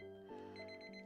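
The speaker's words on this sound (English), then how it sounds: "the timer has gone off" An alarm-clock-style timer beeps in a steady repeating pattern of bright electronic tones over a tonal background, moderately loud and close, with no talking.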